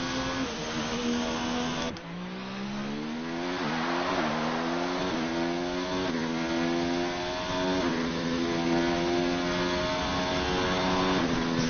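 Onboard race car engine at Belgium running on fresh soft tyres, a loud continuous whine with rising and falling pitch as it shifts through gears, close and steady throughout with no talk.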